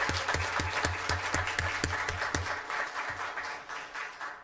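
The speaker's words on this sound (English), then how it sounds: "How about a round of applause for Carla?" Applause for an honoree at a school district governing board meeting, a small group clapping briskly and fairly close, then tapering off toward the end.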